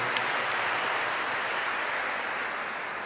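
Audience applause at a Jubilee Year 2025 church gathering of the Archdiocese of Lahore, a dense, steady wash of clapping that holds evenly for about three seconds, with no voices over it.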